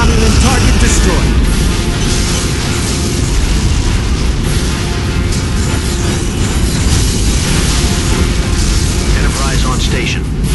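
Heavy, continuous booming blasts from Romulan targets struck by the NX-01 Enterprise's phasers, loud and dense throughout with crackling bursts layered over a constant rumbling roar.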